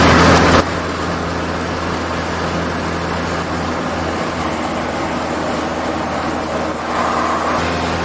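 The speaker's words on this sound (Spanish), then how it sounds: "ahí va el coche ese" A car passes on a road near a wind-farm area in Germany, heard as a steady nearby engine and tyre rumble with traffic noise, a brief louder burst at the start and a swell near the end.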